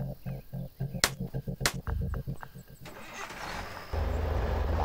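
Car engine starting in the video game Thief Simulator: a series of rhythmic cranking pulses, then the engine catches and settles into a steady, louder running rumble.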